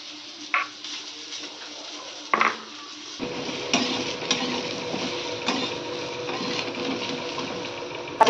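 Food sizzles steadily in a frying pan while cooking a prawn and pointed gourd curry, a continuous close hiss with occasional clinks and scrapes of a utensil stirring against the pan.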